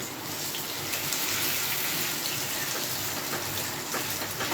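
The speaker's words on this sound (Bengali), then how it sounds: "বন্ধুরা দেখুন এটাকে চেপে চেপে ভালো করে ভেজে নিচ্ছি" Chicken tikka pieces sizzle steadily in a hot pan on a stovetop while being pressed down, a dense continuous hiss and crackle close up throughout.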